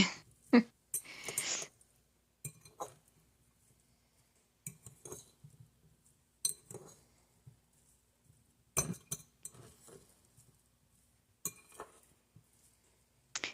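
A utensil stirs Turkish potato salad in a bowl, giving scattered clinks and scrapes in irregular bursts separated by quiet pauses.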